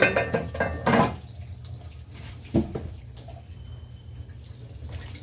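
Dishes, pots and pans being washed by hand at home, with a few clinks and knocks of cookware early on, then a quieter stretch of low running or splashing water.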